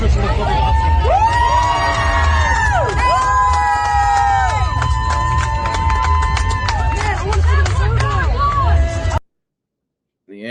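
A crowd cheers and shouts loudly as a man is arrested and removed, with raised voices rising and falling steadily before the sound cuts off abruptly near the end.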